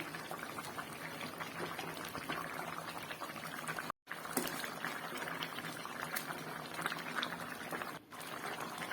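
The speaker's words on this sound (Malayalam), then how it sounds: "ഇനി നമുക്കിതിലേക്ക് അരപ്പ് ചേർത്ത് കൊടുക്കാം" Ground coconut paste goes into a simmering Kerala-style fish curry, with steady, soft bubbling and liquid burbling close by and a brief dull break partway through.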